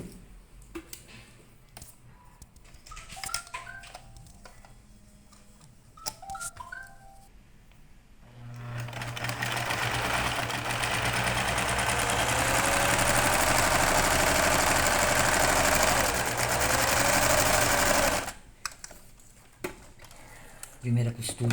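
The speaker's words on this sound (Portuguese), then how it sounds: "A gente vai costurar aqui, passar uma costura aqui no risco e a outra costura aqui no risco." A domestic sewing machine stitching a seam on fabric for small rabbit-doll clothes runs in a loud, steady whir for about ten seconds, with someone talking before and after it.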